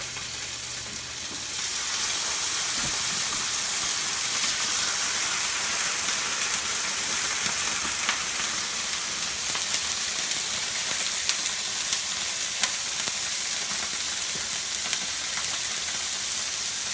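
Blackened tilapia fries in a hot skillet, giving a loud, steady hiss of sizzling oil that holds constant throughout, with no voices.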